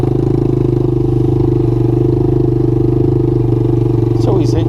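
A Suzuki LT80 ATV fitted with a 125cc Kymco manual-clutch engine idles close by, a steady low rhythmic putter holding an even pitch throughout, with a brief scrape or clatter near the end.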